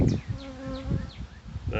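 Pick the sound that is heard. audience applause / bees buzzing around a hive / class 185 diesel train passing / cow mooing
bees buzzing around a hive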